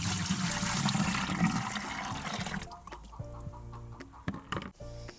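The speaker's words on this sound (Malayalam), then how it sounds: "ഇനി ഇത്രയും വെള്ളം കൂടെ നമുക്കിതിൻ്റെ കൂടെ ആഡ് ചെയ്യാം." Water poured into a container to dilute plant fertilizer for spinach, a dense gurgling rush at first that thins into scattered splashes and drips, close by.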